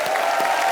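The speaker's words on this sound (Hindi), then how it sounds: "जोरदार तालियां।" Short burst of dense, loud applause from a comedy show studio audience, continuous and even throughout.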